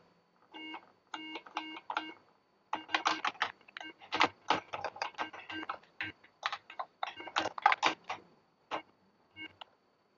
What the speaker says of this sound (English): Let's do a keyboard test